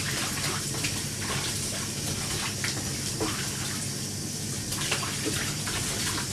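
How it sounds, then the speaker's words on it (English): Tap water runs steadily in a strong, continuous gush while peppers are rinsed for a stew, a constant rush with faint splashes and no voices. "I'm gonna wash all this pepper, chop them and blend them all together."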